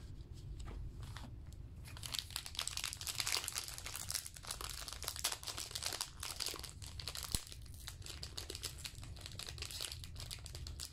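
A Topps baseball jumbo pack wrapper being torn open: close, continuous crinkling and crunching of plastic foil with quick tearing rips and a sharp snap near the end, no talk.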